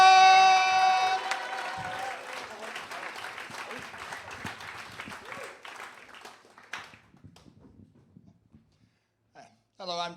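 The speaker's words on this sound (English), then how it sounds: "Comes round whooping and cheering and hollering to Mr. Dante Harker." An audience whoops, cheers and applauds for a performer on stage. The noise is loud at first, then thins and fades away, with a voice talking over it.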